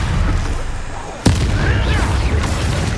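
A sudden loud fiery blast from the Confringo explosive spell in the video game Hogwarts Legacy bursts out once over a dense rumbling battle bed, with voices heard around it.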